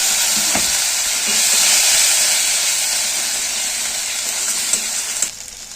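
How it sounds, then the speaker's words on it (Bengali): Coconut milk goes into a pan of frying garlic, chilli and ginger for a prawn malai curry, giving a loud, steady sizzle and hiss that swells and then fades abruptly near the end. "এবার আমি দিয়ে দেবো অল্প একটুখানি নারকেলের যে দুধটা বের করেছিলাম সেটাকে"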